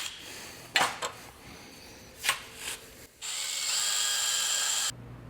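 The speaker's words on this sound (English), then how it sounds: "let's get these drilled out and then Charlie can start grinding" A power drill bores holes out to 3/8 inch in a steel modular winch bumper. A few short sharp bursts and clanks come first, then a sustained high whining run that cuts off abruptly, heard close.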